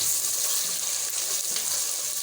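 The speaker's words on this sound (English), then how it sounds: "Now you have to stir" Pilau masala and tomato paste are stirred in a hot pan, giving a steady, even sizzle of frying that holds for a couple of seconds with no talking.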